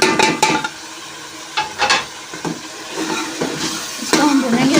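Potatoes and spices fry in a pan for aloo bhujia, a sizzling crackle broken by repeated scraping stirs of a spoon. The strokes come in uneven bursts, close and loud.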